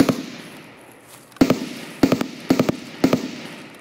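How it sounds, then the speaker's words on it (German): Gunshots fired into the air in the shooter game Escape From Tarkov: four or five loud, sharp single reports spaced about half a second apart over a faint steady background hum, with no talking. "Kannst du mal ein bisschen schießen"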